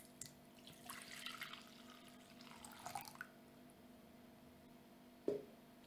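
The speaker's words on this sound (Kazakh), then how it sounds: "жылы сүт құямыз." Warm milk pours into a bowl in a quiet kitchen, a soft liquid trickle for a few seconds that fades out, followed by a single faint clink near the end.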